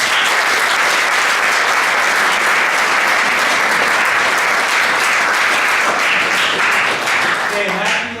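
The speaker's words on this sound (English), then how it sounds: "So please give them all a round of applause." A banquet crowd at a high school football awards dinner gives loud, sustained applause. Thick clapping holds steady for several seconds before tapering near the end, with some cheering voices mixed in.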